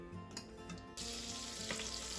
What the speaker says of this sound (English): Wait till it's sizzling, but not smoking.